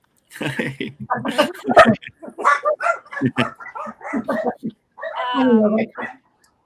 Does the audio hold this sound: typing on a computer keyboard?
no